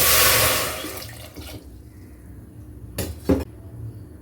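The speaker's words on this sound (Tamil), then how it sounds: "இதில் நம்ம தேவையான அளவு தண்ணி சேர்த்துக்கலாம்" A short gush of water pours into a metal pressure cooker, then fades, followed by a couple of faint metallic clinks.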